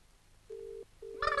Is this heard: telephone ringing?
yes